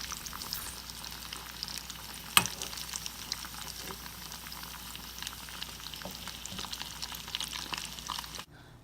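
Chicken kabab fries in hot oil with a dense, steady sizzle and crackle, one brief sharper pop partway through, continuing without speech until it cuts off abruptly near the end.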